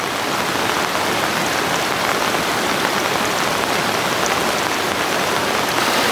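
Bhalu Khola, a clear mountain stream in Nepal near its source during the rainy season, rushes in a steady, dense wash of water noise that stays loud and unbroken throughout, with no voices heard.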